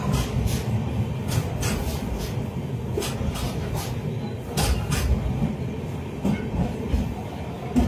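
A train stands at Manmad station during a locomotive change: a steady, loud rumble of rolling stock with scattered metallic clanks and knocks, close by, with no talk.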